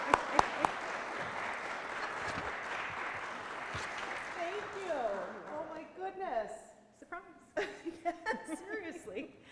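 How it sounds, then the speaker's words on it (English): At an induction ceremony, the audience gives a warm round of applause that fills the room for several seconds, then thins out as people chuckle, laugh and begin talking. "Please join me in giving a warm round of applause to Dr. Jill Pippin."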